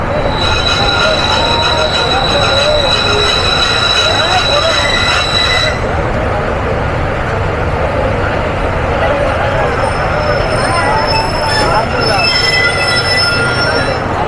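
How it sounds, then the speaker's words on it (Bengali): An Avijatri Commuter train rolls into Kashiani Railway Junction station with loud, continuous rumbling and high-pitched wheel squeal, with crowd chatter in the background. "কাশিয়ানী রেলওয়ে জাংশনের প্ল্যাটফর্মে প্রবেশ করলো অভিযাত্রী কমিউটার"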